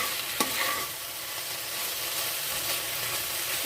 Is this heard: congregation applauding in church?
no